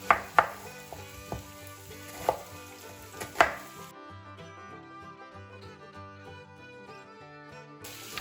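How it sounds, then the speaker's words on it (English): A knife chops onions on a cutting board in a handful of sharp, irregular strokes, heard near and fairly clear over soft background music. "Alright, next I'm going to cut my onions."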